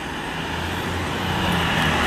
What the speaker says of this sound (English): Nice jake braking sound.